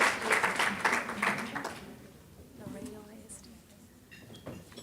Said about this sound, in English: So she gets more applause.